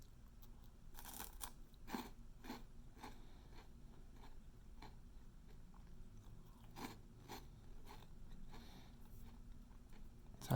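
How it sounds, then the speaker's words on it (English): Crunching on a vegan puff snack, similar in size to a cheese puff with a salty green-vegetable flavor; a close, steady series of crisp bites and chewing crunches with no talk. "Satisfying crunch."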